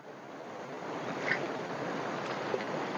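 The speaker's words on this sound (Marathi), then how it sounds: "खरोखर सुंदर आहे धबधबा पाणी बघा" A waterfall's continuous rushing water roars evenly throughout, a dense wash of splashing with no voices.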